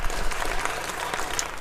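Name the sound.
audience applause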